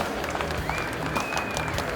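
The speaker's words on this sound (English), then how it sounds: "A round of applause for my engineer." Audience applause at a trade show live attack demonstration of an Element STS2020 BR2 security product, steady dense clapping filling the room for a couple of seconds with a faint voice underneath.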